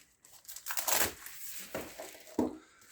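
Plastic bag crinkling in a few short bursts, close and moderately loud, with no talking.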